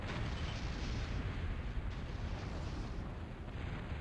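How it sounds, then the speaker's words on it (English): A long-range plasma cannon fires in the strategy game Total Annihilation, a heavy continuous rumbling roar of artillery with no distinct separate shots standing out, loud throughout. "Our first long-range plasma cannon of the game here by Stuka."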